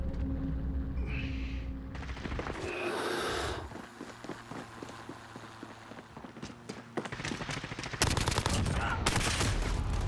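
Bursts of gunfire from a multiplayer match of Call of Duty Modern Warfare crackle in rapid volleys, loudest toward the end, with scattered single shots and faint game noise between.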